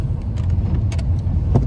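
Car engine idling in traffic, a steady close low rumble with faint light clicks and rattles on top and no talking.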